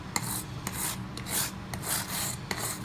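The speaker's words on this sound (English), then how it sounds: "I'm using quite a coarse brush for this to clean out the file strokes" A coarse brush scrubs the file grooves on a metal rabbet plane after a vinegar rust soak, giving close, rhythmic raspy strokes about twice per second, with no talk.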